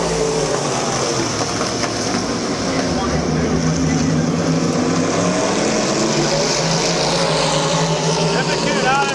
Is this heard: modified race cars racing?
yes